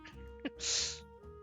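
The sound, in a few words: sneeze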